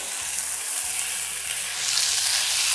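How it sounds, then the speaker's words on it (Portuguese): Rice fries in a pan with already-fried garlic, producing a loud, continuous sizzle that swells slightly toward the end, with no voices. "A gente deixa esse arroz fritar para ele ficar bem soltinho"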